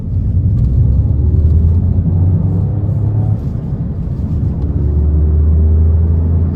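Peugeot 208 GT in sport mode accelerating along a straight, its engine a loud, close rumble that climbs steadily in pitch, eases briefly, then pulls again with a sustained drone.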